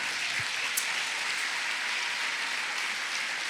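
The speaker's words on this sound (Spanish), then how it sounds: "Denle una ofrenda de palmas al Señor" A church congregation applauding during a sermon, a dense, continuous wash of clapping that holds steady throughout at close to moderate distance.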